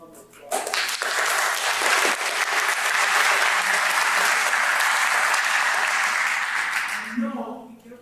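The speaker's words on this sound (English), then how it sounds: "So I encourage you to give him a round of applause." Warm, steady applause from a community gathering audience at a college celebration, rising quickly and sustained for about six seconds, then fading out, with a voice heard faintly near the start and end.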